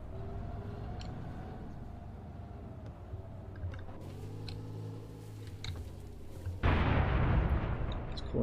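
Artillery fire in the tank game GHPC: deep booming blasts, the last one loudest near the end, over a steady droning vehicle engine hum.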